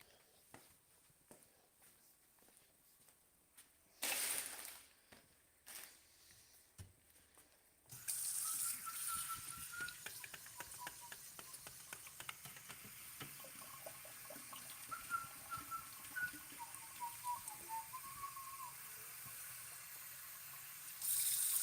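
Tap water gushes steadily for watering plants, starting abruptly after some quiet handling sounds and faint footsteps, then running continuously at moderate volume with small splashes.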